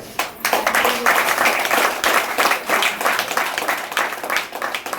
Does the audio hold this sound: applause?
yes